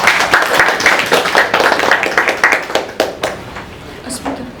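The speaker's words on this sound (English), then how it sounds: "Please give him a round of applause." An audience at a business networking workshop applauds steadily for several seconds, a dense patter of clapping hands that thins out toward the end.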